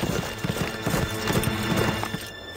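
Horses' hooves clip-clop in steady trotting rhythm in an animated medieval series, loud and close, with faint whinnying mixed into the scene and no clear speech.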